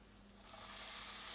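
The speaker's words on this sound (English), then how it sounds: "this is garlic in there, and it's been frying close to a minute" Steady, bright sizzling of garlic frying in a hot pan for banku, growing slightly louder and holding as a continuous hiss.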